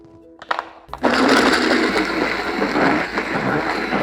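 A few clunks as a lid goes on, then a loud, close countertop blender roars to life and churns ice cream and fruit for Disney-style Dole Whip, grinding steadily with rough, uneven texture.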